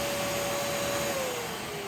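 A GEREFET pet grooming vacuum and blower dryer runs at high speed, producing a steady airy whoosh with a faint whining tone, heard alone with no talking.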